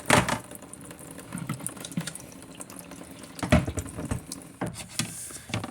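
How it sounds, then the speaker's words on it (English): Water runs and splashes from a tap with intermittent scrub-brush scrubbing and clattering bursts on old Toyota belt molding, close by and fairly quiet. "Drip a little water on there, a little scrub brush."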